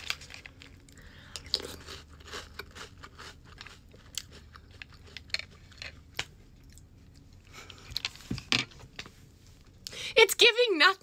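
Crunchy bites of dry cotton candy cereal, close and crackly chewing in bursts, with people talking between mouthfuls.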